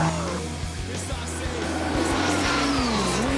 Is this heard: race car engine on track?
yes